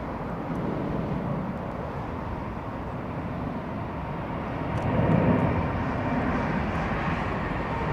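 A Kenya Airways jet departing Heathrow for Nairobi rumbles as a broad, steady engine roar, swelling slightly partway through and staying loud throughout, with no speech.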